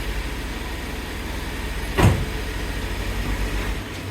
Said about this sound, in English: We're about to back it out with the new clutch.